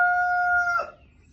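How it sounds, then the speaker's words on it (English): A rooster crows once, a loud, close, drawn-out call that breaks off sharply, followed by quiet. "Chickens are going crazy."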